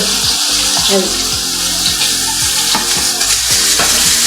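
Fish fries in a pan at home with a loud, continuous sizzle and crackle, close up, with faint clatter and watery bubbling mixed in. No one talks.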